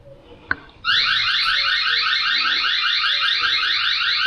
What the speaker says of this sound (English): I don't want to scare them with alarms going off